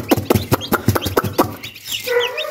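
An Aseel hen clucks in quick repeated bursts close by, with faint high peeping from her chicks near the end.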